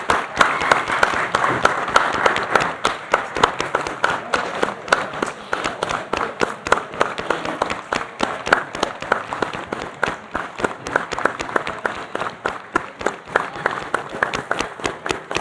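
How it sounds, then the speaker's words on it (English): A minute's applause from spectators at a football match, steady sustained clapping of a modest crowd outdoors, with sharp individual claps standing out across the whole stretch. "It'll be a minute's applause."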